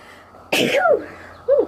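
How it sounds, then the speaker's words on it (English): A single sharp human sneeze bursts out close and loud, followed by a brief trailing vocal sound a moment later. "sneezing."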